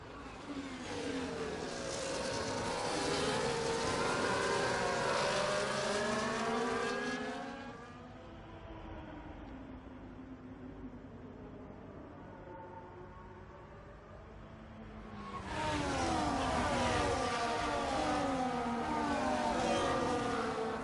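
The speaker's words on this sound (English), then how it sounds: "this game will make it sound like the cars are going full throttle" F1 24 race cars at full throttle at the Belgian Grand Prix, a loud, high engine whine with rising harmonic sweeps. It drops to a distant hum midway, then roars back just as loud.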